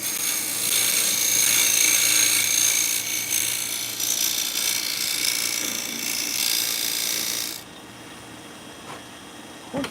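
A woodturning lathe cutting a dovetail into the bottom of a spinning wood piece: a steady whirring, scraping cut with a faint low hum, continuing for several seconds before the cutting stops abruptly and only the quieter motor remains.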